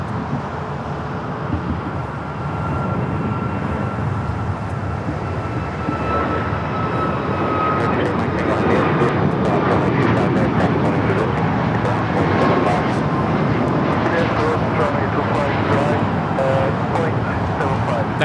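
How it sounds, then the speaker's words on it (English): A Southwest Airlines Boeing 737 MAX 8 takes off from LAX, jet roar building from a moderate distance into a loud, sustained broadband rush with a faint whine, heard alone without talk. "That is Southwest Airlines 3538 taking off to Denver, Colorado on the MAX 8"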